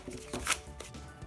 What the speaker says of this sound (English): So to set up the game, we're going to shuffle our